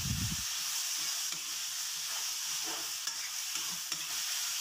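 Potatoes frying in a pan are stirred with a spoon. A steady close sizzle runs throughout, with soft scraping stirs over it, a brief thump at the start, and no talking.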